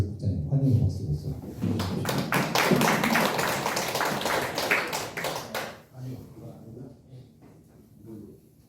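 An audience at a civic education lecture at the Jeonju YMCA gives a few seconds of steady applause welcoming the lecturer, dense clapping that swells and then fades, with a voice talking before and after.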